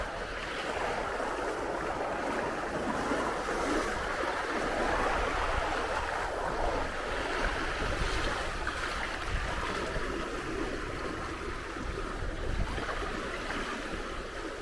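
Ocean waves wash continuously for the whole stretch, a broad, steady rushing surf with gentle swells and no voices.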